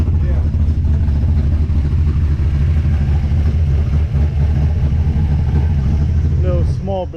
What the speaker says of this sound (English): Little small block action, nitrous motor.